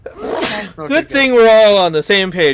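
A single sharp sneeze bursts out at a tabletop fantasy role-playing session, immediately followed by someone talking close by.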